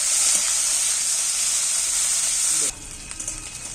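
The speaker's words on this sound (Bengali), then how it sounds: "পেঁয়াজ আর রসুন ওই যারা বাকি তেলটার মধ্যে নাড়াচাড়া করে ভেজে নেবে" Onion and garlic sizzle loudly in oil as they are stirred and fried, a dense steady hiss that drops away abruptly partway through, leaving quieter scraping and faint movement.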